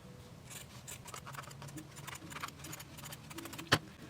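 Scissors cut through a folded, ironed strip of fabric lining along its middle, giving a series of quiet, close, crisp snips and rasps, with one sharper snap near the end.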